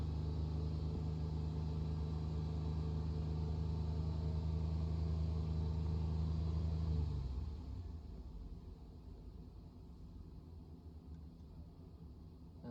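Car engine held at a steady 3,000 RPM for about seven seconds as a constant hum with a low rumble, then the revs drop and it settles into a quieter, rougher idle.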